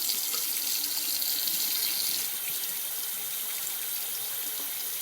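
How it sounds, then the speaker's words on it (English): Warm water runs from a tap into a sink before cross-stitch work is washed, a steady close hiss and splash that eases slightly partway through, with no voices. "So we're going to get the water running, not hot,"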